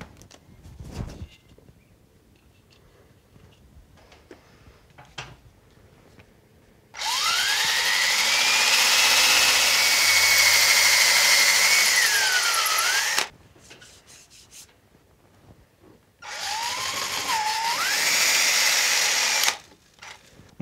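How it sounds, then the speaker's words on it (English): A power drill whines loudly through two long bursts as it bores a pilot hole in a wall for a curtain pole, its pitch rising and dipping, with quiet handling noises between. "it's an idea to drill a pilot hole first"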